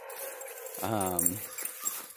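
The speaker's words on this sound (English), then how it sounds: "we're going by a house that has a dog" A dog at a house along a morning walk gives a single drawn-out, whining bark from nearby, with people talking and walking around it.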